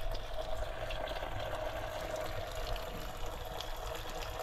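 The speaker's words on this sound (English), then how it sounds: "This fountain's been going so long it's fully eroded this marble basin." Water runs steadily from an ancient fountain at the ruins of Pergamon into a marble basin worn away by its flow, a continuous close splashing trickle with no speech.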